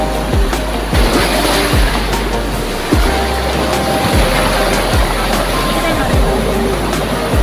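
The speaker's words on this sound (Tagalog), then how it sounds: "Nangalit na po yung alon na lumalakas na." Strengthening waves surge against a rocky barrier along the shore at Jala Jala, Rizal, a loud continuous wash of surf with repeated low thumps roughly every second.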